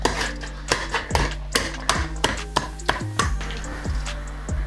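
Rinsed chickpeas being mashed in a bowl for seitan steak, a steady run of about a dozen sharp, close thuds and clinks spaced roughly every third of a second, with a low hum underneath.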